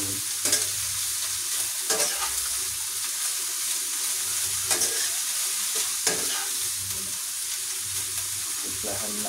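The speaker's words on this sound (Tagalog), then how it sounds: "hahaluin" Bitter melon and eggs stirred in a frying pan, a steady close sizzle broken by several sharp scraping strokes of a spatula against the pan.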